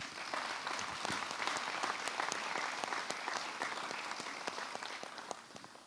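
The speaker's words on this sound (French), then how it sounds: "Merci à toi, André, on peut encore l'applaudir" Sustained applause from the attendees at a French inaugural intercommunal council meeting, dense clapping from many hands that holds steady throughout, then thins slightly toward the end.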